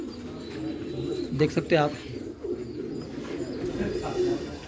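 A pigeon coos twice in quick succession at a backyard pigeon loft in Hyderabad, the soft rolling calls sitting under someone talking, with steady outdoor hum throughout.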